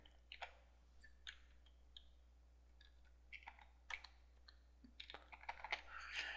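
Light, irregular keystrokes tap on a computer keyboard in short bursts, quiet and close, with a faint steady hum underneath.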